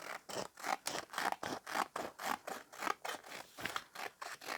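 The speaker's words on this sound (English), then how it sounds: "So I'm just going to snip off the ends." Scissors snip through paper, trimming the ends of a paper pocket for a junk journal: a quick, even run of about a dozen crisp cuts, close and fairly quiet.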